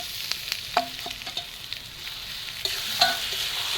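Soybean chunks frying in a pan with onion and tomato, a soft continuous sizzle broken by light spatula taps and stirring clicks, close and fairly quiet with no speech.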